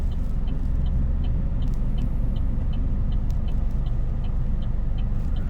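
Car idling and creeping backward in reverse during parking practice with a learner driver, a steady low engine rumble close by with faint regular ticking, no voices.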